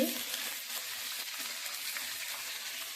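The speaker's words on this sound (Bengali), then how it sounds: "এই বেগুনটা ভেজে নেবো, একটু হলুদ দিয়ে দিচ্ছি।" Eggplant frying in a pan with a little turmeric, a soft even hiss of hot oil that runs steadily and quietly throughout, with no voices.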